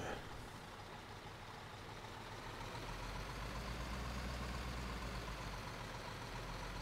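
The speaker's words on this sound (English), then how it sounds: "Spin our truck around." Truck engine in Construction Simulator, a steady low droning rumble that deepens and holds as the truck turns around, continuous with no talking.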